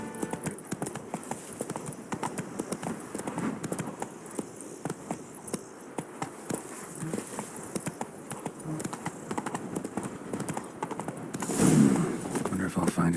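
Roach the horse's hooves clip-clop in a steady trot throughout The Witcher 3, close and continuous, with a brief louder burst near the end and some talk over it.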